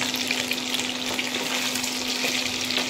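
Chicken pieces deep frying in hot oil for chicken Manchurian, a dense, even sizzle that stays constant and close throughout with a steady low hum beneath and no voices.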